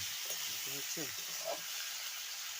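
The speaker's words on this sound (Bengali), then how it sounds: "ভালো করে আমি পনেরো কুড়ি আধ ঘন্টার মতন এটাকে কষে নিচ্ছি" Fish curry ingredients with potatoes and beans fry in a pan, giving a faint, steady sizzling hiss, with a few brief, soft voice-like sounds near the start.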